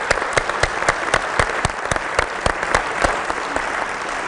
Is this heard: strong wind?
no